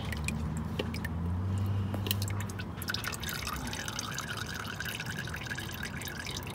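Motor oil drains from a Honda Civic into a drain pan, a continuous close trickle and splatter with scattered wet drips running steadily throughout.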